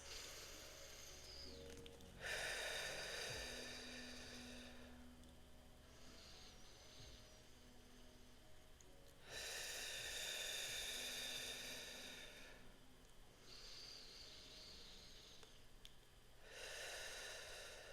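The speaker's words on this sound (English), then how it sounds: "I take 3 deep inhales and exhales, and I'm really just focusing on the breath." Slow, deep breaths taken during a calm meditation, long airy inhales and exhales alternating with quiet pauses, close to the microphone and audible on their own.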